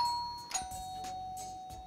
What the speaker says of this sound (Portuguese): É uma campainha de pedido de socorro